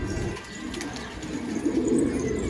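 Pigeons and their chicks coo softly from a hidden nest, a faint, continuous murmur of low calls with no voices over it.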